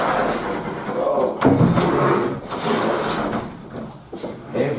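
A heavy wooden door is lifted and set back onto its hinges, giving a continuous rubbing, scraping and knocking of wood close by, with a brief exclamation from a person.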